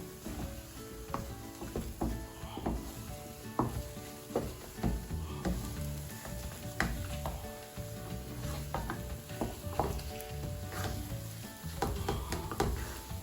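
Thick ube halaya (bico halaya) is worked with a spoon in a lightly oiled pan, giving repeated dragging scrapes and clacks over a steady low sizzle, close and continuous with no talk.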